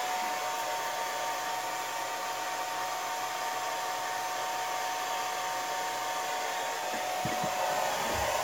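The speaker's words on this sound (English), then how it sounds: "See, I got a blow dryer there." A blow dryer runs continuously up close, a loud steady whirring roar, drying paint on a custom Hot Wheels toy car, with a few faint knocks near the end.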